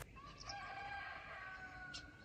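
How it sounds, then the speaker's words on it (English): Cockerels crow on a chilly autumn morning in a quiet French village, a rooster's cock-a-doodle-doo drawn out and somewhat distant, with a second shorter call near the end amid soft rural stillness. "All of Lalande is still slumbering, except for the cockerels."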